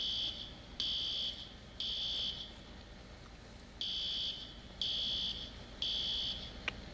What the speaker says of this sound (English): now we'll just go ahead and turn off the fire alarm here